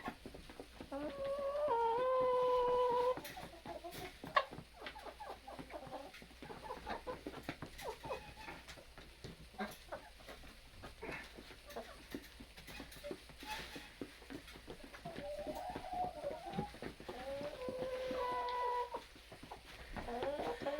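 Hens cluck and murmur at moderate distance, with a few louder drawn-out calls standing out over scattered scratching and shuffling noises.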